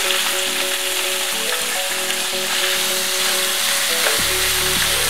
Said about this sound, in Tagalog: Pag mainit na itong ating mantika, ilagay na natin itong ating karne.